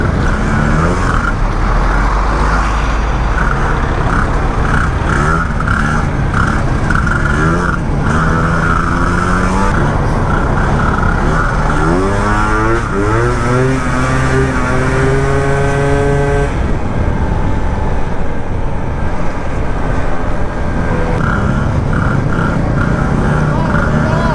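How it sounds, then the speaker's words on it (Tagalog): Road traffic heard from a moving Honda Dio 2 90cc two-stroke scooter: a loud, continuous engine and vehicle roar with rising and falling tones as motors rev and pass close by, no clear talk. "traffic pala pag gantong oras dito"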